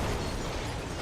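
A car crash explosion in the racing game Burnout 3: Takedown erupts as a dense, loud, continuous roar of noise filling the whole brief moment, with no talk over it.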